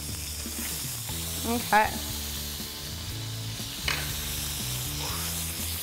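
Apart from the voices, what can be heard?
lamb chops frying in a skillet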